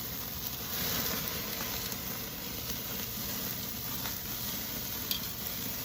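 A steak sizzles in a hot pan just after being flipped, a soft, steady frying hiss held at low level with no talk.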